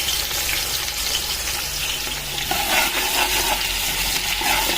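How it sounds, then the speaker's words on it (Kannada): Onions dropped into hot oil with cumin for mutton boti masala fry with a loud, continuous sizzle, and stirring adds scraping textures, with no talk. "ಈರುಳ್ಳಿ ಹಾಕ್ತಿದ್ದೀವಿ"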